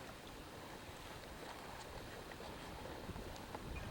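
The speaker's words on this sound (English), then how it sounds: "And the wind has come up." Steady wind blowing across open water while kayaking near an iceberg off Innarsuit, Greenland, a continuous broadband rush with faint lapping waves, no voices.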